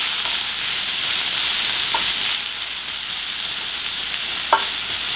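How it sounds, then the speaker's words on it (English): Sliced peppers frying for chicken fajitas in a hot pan, a loud continuous sizzle close by, with a couple of soft scraping stirs cutting through the crackle. "Gonna give it one good stir."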